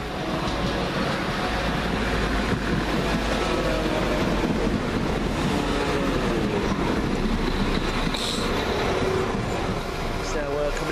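A London Midland Class 172 diesel unit at Birmingham Moor Street, heard as a steady, loud low rumble of train and rail noise throughout, with voices talking over it.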